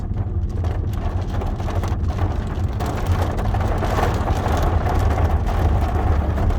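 Heavy rain during a thunderstorm on a farm in Portugal, a dense steady roar of falling water that builds slightly, with low rumbling thunder beneath, close and loud with no voices.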